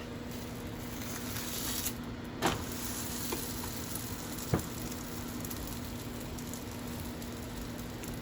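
Arfissa frying in vegetable oil, a steady close sizzle under a constant low hum, with a couple of sharp taps of a utensil against the pan.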